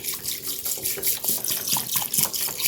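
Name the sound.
spring water poured into a bowl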